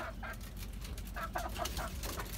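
Desi chickens on a rooftop give short repeated clucks, several soft bursts over a low steady background rumble, fairly faint and close.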